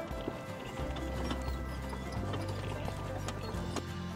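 A pony canters on a horse farm, hooves clip-clopping in a quick, steady rhythm close by, with faint background noise and no talk.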